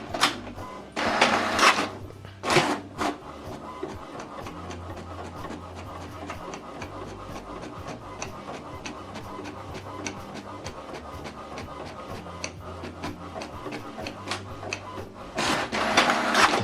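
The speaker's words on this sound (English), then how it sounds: "Now this document is printing." An inkjet-style printer printing a document sent from a phone, with steady rapid mechanical clicking and whirring throughout, punctuated by louder feed or carriage bursts at the start and end, close by with no talking.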